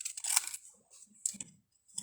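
Scissors snip through a paper card sentiment strip at a crafting table, giving a few short, close, crisp cuts separated by brief pauses.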